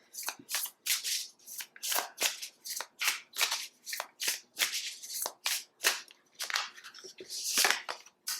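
Oracle cards from a Monology deck being shuffled by hand, a steady run of crisp riffling bursts roughly every half second, close and clear with no voices.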